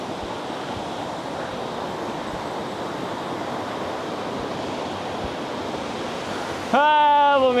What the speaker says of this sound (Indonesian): kita udah sampai di air terjun Sigala-Gala